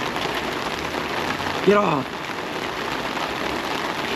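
Steady rain falls on surfaces outdoors with a constant close hiss, briefly broken by a short shouted voice.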